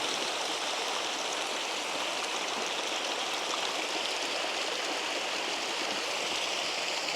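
Continuous rushing of a mountain spring stream, water flowing steadily nearby with an even, hissing roar and no voices.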